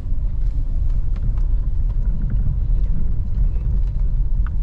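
Steady low engine rumble of a Dacia Duster 1.2-litre 4x4 coasting under engine braking on a dirt track, with faint crunches and wind noise, no voices.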